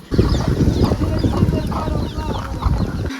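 Small chicks at a rural house in Colombia give rapid high peeping and clucking calls, dense and close throughout, with a low rumble of background noise.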